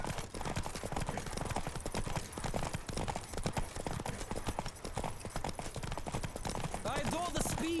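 Fast, rhythmic clip-clop of a galloping horse in The Witcher 3: Wild Hunt, loud and continuous, with a brief voice near the end.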